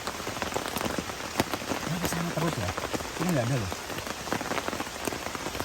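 Heavy rain patters and drums steadily on surfaces around a night campsite on a hike up Mount Slamet, close and constant while people talk quietly beneath it.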